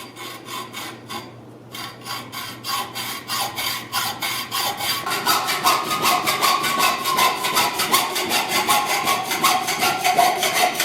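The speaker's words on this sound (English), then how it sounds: "you can get by with just your machinist vise and a hacksaw" A hacksaw cuts through stock clamped in a machinist vise, rhythmic close rasping strokes that speed up and grow steadier and louder after a brief pause.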